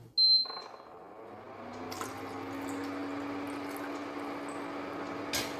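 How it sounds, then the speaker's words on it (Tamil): Water poured from a glass tumbler into a pot on a stove, a short sharp clink followed by a steady, fairly quiet trickling stream lasting several seconds, with no talking. "அதில் ஒரு டம்ளர் தண்ணி ஊற்றிக்கலாம்"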